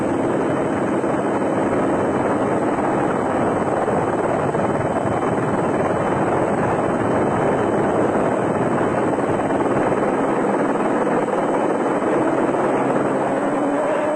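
A helicopter filming an off-road race at Sun City, South Africa, holds a steady rotor and engine roar at a constant, fairly loud level, with a broad churning drone and no talking.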